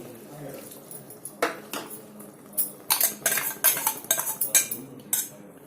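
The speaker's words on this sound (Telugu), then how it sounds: "వేసుకొని మంచి కలిపేయండి" Ground masala paste stirred into chicken fry in a pan, a run of loud metallic scrapes and clanks from a spoon against the pan, coming quicker and denser toward the end, with no talking.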